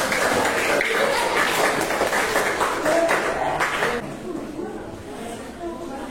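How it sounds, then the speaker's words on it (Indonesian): Junior high school students clap for a presenting group in a classroom, a burst of dense applause for about four seconds that thins out while a voice talks over it. "tepuk tangan untuk kelompok 3"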